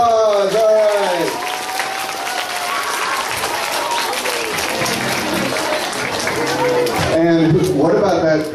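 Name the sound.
audience applause after a school play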